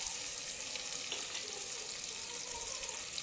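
Tomatoes and green chillies fry in a pan for pulao, giving a quiet, even, hissing sizzle that holds steady throughout with no voices.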